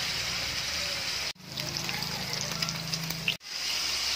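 Beef hits hot oil in a wok with a steady, crackling sizzle, broken by two short cuts; a faint low hum sits underneath, with no talking.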